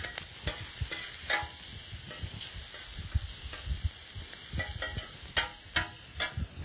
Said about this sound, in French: Ici, je remue mes pâtes et légumes.